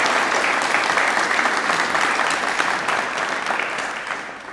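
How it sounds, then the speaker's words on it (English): An audience at a motorsport design launch night applauding for a professor, sustained dense clapping from a crowd of many hands that fades slightly toward the end, with no speech over it. "Can we just give Professor Croft a round of applause for coming today?"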